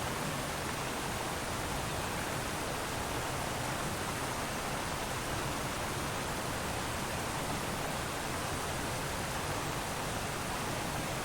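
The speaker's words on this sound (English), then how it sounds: "a little bit away from that roaring, rampaging waterfall there" Roaring waterfall in the video game The Isle Evrim: a steady, dense wash of rushing water noise, even and unbroken, fairly quiet overall with no other sounds standing out.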